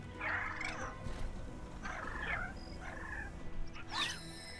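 Small birds in the video game The Mageseeker: A League of Legends Story call in several brief chirpy, warbling bursts spaced a second or so apart over quiet ambient background.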